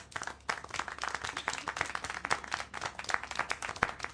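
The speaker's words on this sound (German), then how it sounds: "Applaus! Sie klatschen dafür?" Steady, dense clapping and applause from a crowd in the video game Syberia: The World Before, continuous throughout with no voices, sounding slightly thin and synthetic.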